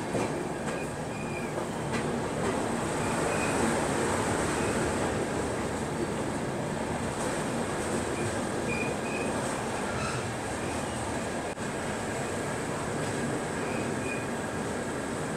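The New Delhi–Mumbai Duronto Express runs at speed, heard from inside a 3rd AC economy coach as a steady, loud rolling rumble with faint clicks and squeals, and no voices.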